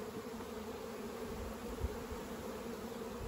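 Honeybees swarm over open hives being worked for royal jelly production in spring, a dense, even buzz that holds steady throughout with no voices.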